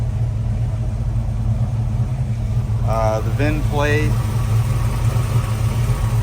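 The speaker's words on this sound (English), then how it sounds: "Engine is quiet." A 1969 Chevrolet Camaro RS/SS convertible idles on a cold start, its steady, even low rumble running quietly throughout with no valve ticking, while someone speaks briefly partway through.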